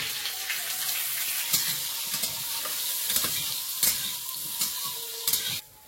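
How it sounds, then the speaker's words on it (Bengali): Dried chillies and panch phoron sizzle in hot oil in a kadai, a dense, close, steady crackling fry with occasional sharp pops and stirring scrapes, ending abruptly. "কড়ার মধ্যে একটু তেল দিয়ে দেবো, শুকনো লঙ্কা, পাঁচফোড়ন দিয়ে দেবো"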